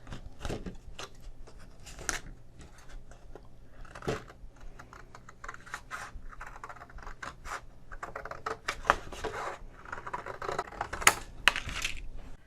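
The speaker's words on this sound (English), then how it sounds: "use a scissors" Scissors snip and crunch through paper in irregular bursts, trimming a watercolor painting's edges, with small scrapes and rustles between the cuts, close up and fairly quiet.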